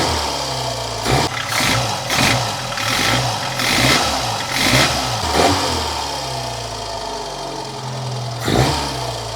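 A 1970s-style A112 Abarth pushrod engine revs in repeated throttle blips over a running idle, each rise swelling and falling back, loud and close, with no talking.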